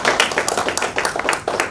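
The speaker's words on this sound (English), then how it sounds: "Let us all clap." A crowd claps at an inauguration ceremony, with loud, close hand claps falling in an uneven, lively patter that never settles into a steady rhythm.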